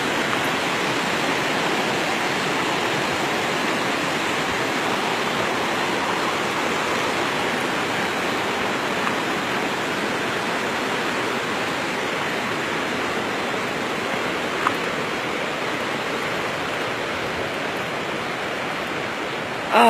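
A waterfall in a Croatian national forest roars as a dense, constant rush of falling water, loud and unbroken for the whole stretch, with no voices.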